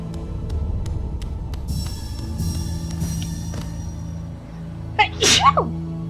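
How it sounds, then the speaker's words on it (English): A small, sharp human sneeze near the end, close and short, after quiet game music and ambience from Hollow Knight. "little kitten sneeze there"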